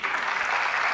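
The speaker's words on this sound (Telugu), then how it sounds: "ఒకసారి గట్టిగా క్లాప్స్ కొట్టండి ప్లీజ్." A studio audience at a Telugu comedy show claps in dense, steady applause for the whole brief moment.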